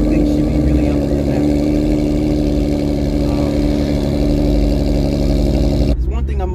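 Modified car engine running steadily after an injector repair at Brooklyn Motors, a loud, close, even drone with no revving that cuts off abruptly near the end.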